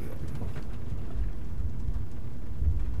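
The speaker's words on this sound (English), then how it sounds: "It's just a little rain." Steady, dense rain hisses through a cloudy mountain scene in the game Shadow of the Tomb Raider, a continuous low rumbling wash with faint thunder-like swells, no voices present.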